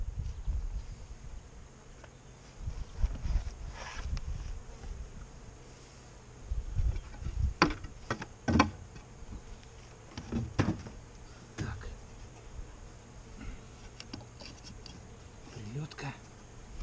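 Honey bees buzz around an open hive in a spring apiary while the old hive is swapped for a clean one, a steady close drone broken by short louder passes and handling bumps.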